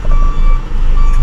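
Reversing truck beeping at night in an open parking lot, a steady thin repeating tone over a loud, continuous low engine rumble close by, no voices.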